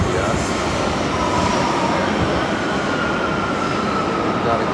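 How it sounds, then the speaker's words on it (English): An underground metro train at a Valencia, Spain subway stop rumbles loudly and steadily through the station, with wheel squeal and rail noise filling the space throughout. "Alright, we're at the subway stop here in Valencia."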